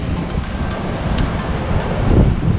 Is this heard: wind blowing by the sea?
yes